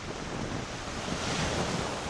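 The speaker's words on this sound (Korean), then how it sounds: "어느새 먼 바다로 나가 거친 파도 속으로 들어갑니다" Rough open-sea waves and surf off a wild New Zealand Fiordland coast, a steady loud broadband wash with wind buffeting the microphone throughout, no voices.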